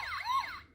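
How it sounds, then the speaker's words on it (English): Electronic siren from a pressed button on a Transformers toy, a short wailing tone that sweeps up and down and then cuts off abruptly. "pressing his buttons now makes sirens!"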